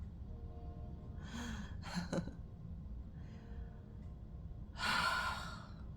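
Slow, deep breaths come close and quiet, several long breathy inhales and exhales spaced out, with the last breath strongest.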